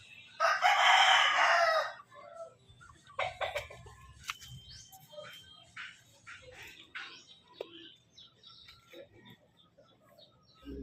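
A rooster crows loudly near the start, followed by scattered clucks and softer chicken calls over quiet outdoor ambience.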